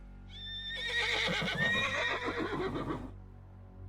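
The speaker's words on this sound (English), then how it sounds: "He hears horses in the distance." A horse whinnies once, a long shrill neigh that rises and trails off, heard fairly clearly against quiet surroundings.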